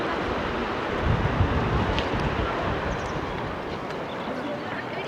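Strong wind rushes and buffets the microphone outdoors in Ourika, Morocco, in a continuous roar, gusting harder partway through, with faint voices in the background.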